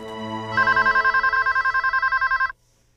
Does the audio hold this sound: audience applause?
no